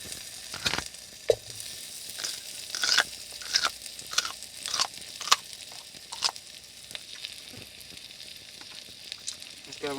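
Food sizzles in a pan at a car campsite in Dorset, with sharp crunchy bites at irregular intervals and chewing close by over the steady frying hiss.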